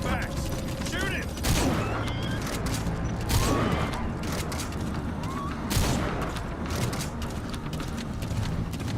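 Gunfire in the video game Metal Gear Solid V: The Phantom Pain, several sharp shots spaced a few seconds apart over a busy background of mechanical game noise, moderately loud.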